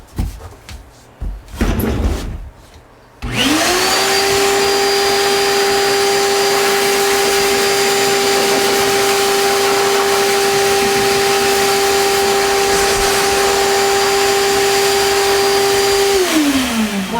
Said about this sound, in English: Now we'll blow it off and see what it looks like.